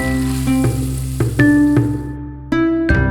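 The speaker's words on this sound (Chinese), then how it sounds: "继续煸炒至洋葱微微焦化，加入混合香料、姜蒜泥" Onions, mixed spices and ginger-garlic paste sizzle in a hot pan as they are stir-fried, a steady close sizzle punctuated by several sharp clinks and scrapes of the spatula against the pan.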